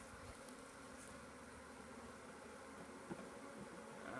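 Honey bees from a newly installed package buzz at the front entrance of their hive, a steady dense drone that holds close and fairly loud from start to finish with no talking.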